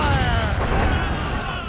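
Ship cannon fire from a naval battle in the video game Assassin's Creed Rogue: a loud, deep, rumbling boom that fills the whole moment, with tonal music and shouting crew voices layered over it.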